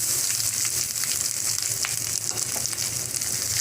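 Grated coconut added to a hot pan for groundnut chutney, a loud, steady sizzle of roasting that continues close and unbroken throughout.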